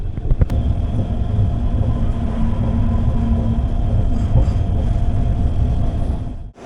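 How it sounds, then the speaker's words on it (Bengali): A double decker train on the Coimbatore to Bangalore line rolls slowly, giving a steady, close rumble of wheels and carriage with a faint rattle throughout and no voices. "বন্দে ভারতের জন্য ট্রেনটা কিছুটা দাঁড় করিয়ে দিয়েছিল মানে স্লো চলছে"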